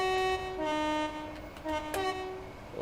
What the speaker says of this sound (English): Should we get a bit of horn action as well?